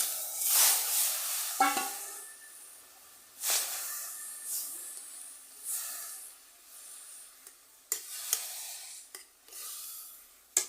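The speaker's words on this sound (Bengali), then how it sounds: "জল দিয়ে দিচ্ছি পাতা পেঁপে সিদ্ধ করে নেব" Water boiling with papaya in a pot, heard as bursts of hissing steam and bubbling that rise and fade, close and moderately loud, with sharper short spurts near the end.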